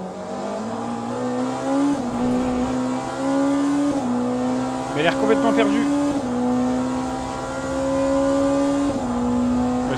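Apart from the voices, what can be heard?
Porsche race car engine in Le Mans Ultimate video game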